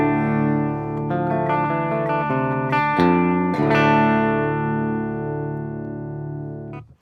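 PRS single-cut electric guitar through an Orange Dark Terror amp on a clean tone, ringing strummed chords and a few picked notes that sustain and slowly fade, close and alone.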